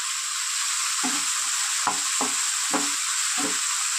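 Chicken pieces fry in a pan under a steady, close sizzle, broken by about five distinct stirring scrapes from the second second on.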